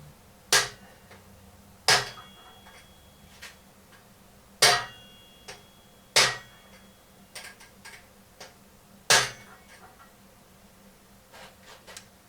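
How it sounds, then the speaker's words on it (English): Several sharp, isolated hammer strikes drive a timing chain part onto a 2006 R53 Mini Cooper S engine, landing at uneven intervals, separated by quiet pauses, with a few fainter taps between them. "stick this over it, hit it with a hammer, slides right on"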